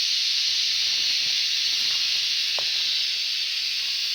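Cicadas in a forest give a loud, constant high-pitched buzzing hiss that runs unbroken and close throughout, with a faint knock or two beneath it.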